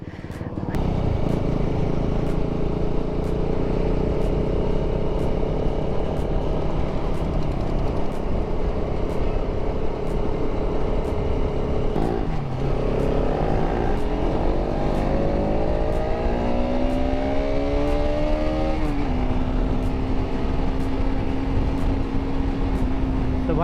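A TVS Apache RR310 motorcycle engine drones loudly and steadily, then sweeps past with a falling pitch as it revs and shifts, continuous throughout.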